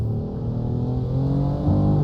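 A BMW F82 M4 engine accelerating in the Assetto Corsa racing game, a steady droning engine note climbing slowly in pitch, loud and continuous.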